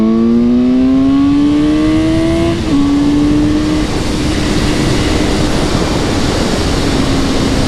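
A Suzuki GSX-S750 motorcycle's inline-four engine accelerating hard, its rising whine climbing through a gear, a brief dip at the shift, then pulling again under heavy wind rush, loud and close.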